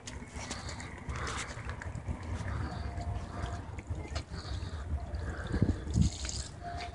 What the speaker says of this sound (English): So we're going to rinse off this window.